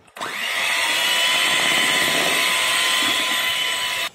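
An electric hand mixer whirs through homemade cake batter as flour is added, starting abruptly and holding a loud, steady high-pitched motor whine with a sustained tone, running close and continuous for about four seconds before cutting off.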